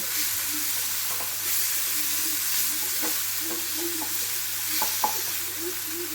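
Oyster mushrooms stir-fried in oil over a high flame, a steady sizzle with scattered scraping clicks of a utensil against the pan, close and moderately loud with no talking.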